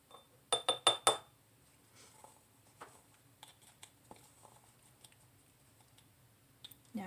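Baking soda is spooned into a glass container with a metal spoon, making a quick run of bright clinks against the glass followed by faint scraping and soft taps, close and quiet.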